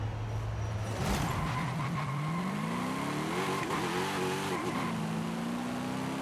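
Race car engine in Forza Horizon 5 holds a steady idle, then revs hard at launch with rising pitch through quick gear changes, loud and continuous without a break.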